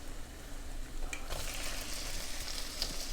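Shrimp drop into a hot frying pan for Singapore chow mein, a steady sizzle that swells into a broader, louder hiss about a third of the way in and keeps going.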